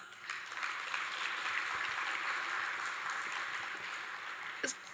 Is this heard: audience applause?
yes